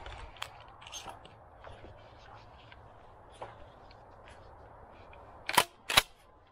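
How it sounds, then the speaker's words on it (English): Exotic shells being loaded into a shotgun: sparse faint clicks and handling noises, then two sharp close metallic clacks near the end, otherwise quiet. "Loading them up."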